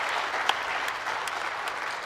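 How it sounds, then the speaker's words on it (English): Audience at a high school awards night claps steadily in a continuous wash of applause, moderately loud, with a few sharper individual claps standing out. "I just want to give you all a round of applause"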